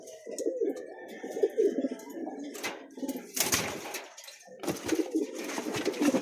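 Taiwan imported pigeons cooing in bursts of low, throaty, rolling coos, close by, with brief rustles and faint chirps between calls.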